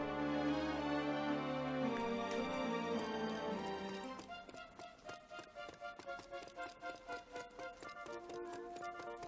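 Horse hooves clip-clop steadily in Dragon Quest Heroes II, a quick regular patter of taps emerging after a few seconds of game music and continuing to the end at moderate level.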